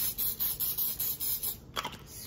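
Oil spray misted over palmini pasta in an air fryer basket: a rapid run of short, even hissing bursts, close and fairly loud, with a steady high whine underneath and a final sharper spurt near the end.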